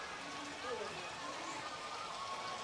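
Natural spring water pours steadily at the Gaumukh spring inside Chittorgarh Fort, a continuous splashing wash heard under someone talking.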